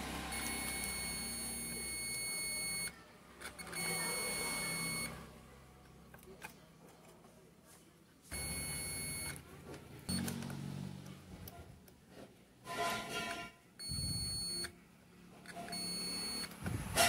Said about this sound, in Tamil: தொட்டாலும் பீப் தாங்க காட்டுது